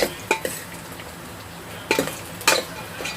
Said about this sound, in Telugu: ఇవైతే ఇక మంచిగా ఫ్రై అయిపోతున్నాయి. మసాలాలు ప్లస్ ఉల్లిపాయలు ఇవన్నీ మంచిగా.